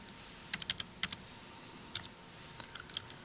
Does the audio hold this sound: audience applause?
no